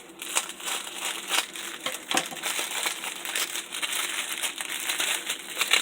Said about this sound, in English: I'm going to use my scissors to cut that open a little bit here.